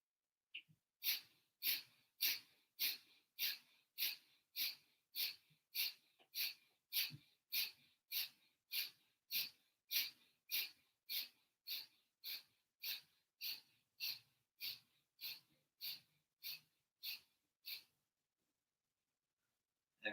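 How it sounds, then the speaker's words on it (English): Rapid, forceful fire-breath pranayama during a vinyasa yoga session: about thirty sharp nasal exhalations in an even, quick rhythm, close and clear, stopping abruptly near the end. "fire breath."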